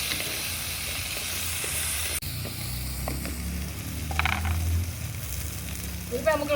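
Onion pieces sizzle and fry steadily in a pan while roti pachadi with okra and raw mango is cooked, a continuous close hiss with occasional stirring scrapes and a brief sharp pop near the end.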